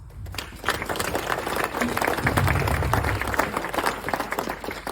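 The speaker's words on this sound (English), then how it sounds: "so just another round of applause" Sustained applause from a dinner crowd at a charity dinner in the Quorn Grange Hotel, dense clapping filling the room for several seconds with a low murmur of voices beneath.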